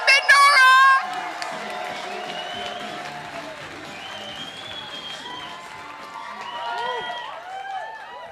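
A comedy-club audience applauds as Flippin' Nora is welcomed to the stage, opening with a loud burst of shouting before settling into steady clapping mixed with whoops and cheers.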